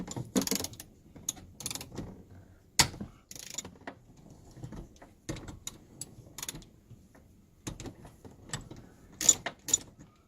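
A 17mm bolt and Phillips screws are taken out of vehicle trim with hand tools. Close, quiet ratchet clicks and metallic handling rattles come in short irregular bursts, with pauses between.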